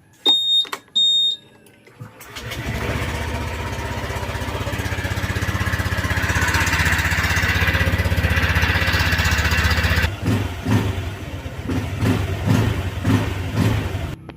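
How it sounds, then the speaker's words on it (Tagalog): A motorcycle engine, just refilled with fresh oil, starts with a couple of brief bursts, then settles into a steady, loud running drone while warming up, slightly uneven toward the end. "painitin lang natin yung ating engine para umikot-ikot yung bagong oil na nandito sa makina"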